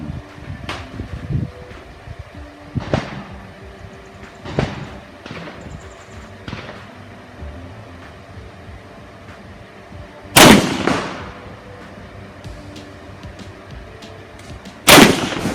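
A Beretta 92 FS pistol fires at a shooting range with a target about 7 to 8 metres away. The sharp shots are spaced irregularly, with two notably louder blasts near the end, over a steady fan-like background hum.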